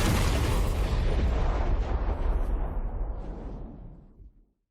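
Massive explosion of a self-destructing battleship in a space-warfare audiobook, a heavy deep rumbling blast that roars loudly for several seconds then gradually fades out.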